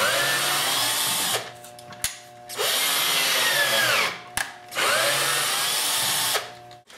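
A cordless drill converted to mains power whirs loudly in three long bursts, each spinning up and cutting off, with brief pauses and clicks between them.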